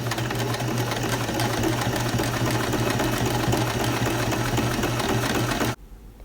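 Sewing machine stitching the outer seam of a fabric martingale collar, a steady, loud, continuous motor whir with rapid needle rhythm running for several seconds before stopping abruptly.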